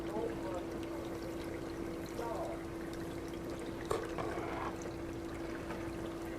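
Small water pump spraying water inside a hobby cleanup machine run at 6 volts, a steady low hiss and splash, moderately close and constant throughout with a faint hum and no speech.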